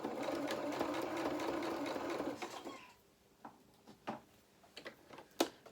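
Sewing machine stitching the head of a hedgehog doll, a steady close whirring run for over two seconds, then stopping into quiet with a few scattered ticks and clicks of fabric handling.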